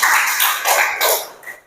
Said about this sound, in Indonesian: tepuk tangan dulu buat Nada dulu